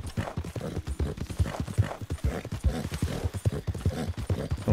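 Horse hooves clip-clop in a steady rhythm as a rider travels on horseback in Red Dead Online on Xbox, with a faint whinny; the hoofbeats are close, continuous and clear with no talk over them.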